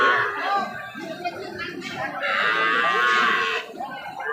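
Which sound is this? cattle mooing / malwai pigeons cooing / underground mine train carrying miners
cattle mooing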